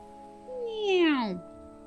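A cat meows once in the SunnySide video game, a single clear, close call that slides downward, with a faint steady hum behind it.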